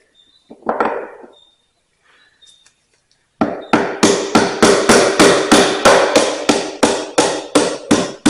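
Repeated hammer blows drive a seal into a priority flow divider during a reseal, a few scattered taps first, then a steady series of sharp, evenly spaced knocks, close and loud.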